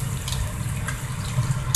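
Cold tap water runs steadily over rice noodles being rinsed in a sink, a continuous close hiss and splash with a few brief spattering bursts and no talking.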